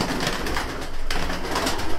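Rare Miro-strain Altuni pigeons coo close by in their loft, a soft, continuous rolling murmur with a few louder throaty swells.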